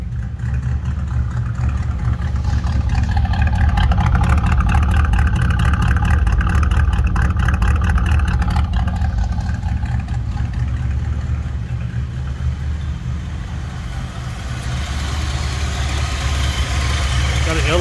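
A 1964 Chevy Impala SS with an Edelbrock four-barrel carburetor idles, its exhaust giving a loud, steady, deep rumble that continues unbroken and dips briefly midway.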